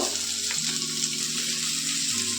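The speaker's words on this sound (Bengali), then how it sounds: "পেঁয়াজটাকে আমি ভেজে নেব" Chopped onions frying in ghee for a cauliflower korma, a steady close sizzle with faint stirring scrapes running unbroken throughout.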